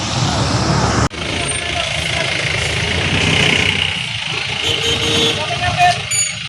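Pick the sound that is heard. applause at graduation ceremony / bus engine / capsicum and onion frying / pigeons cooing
bus engine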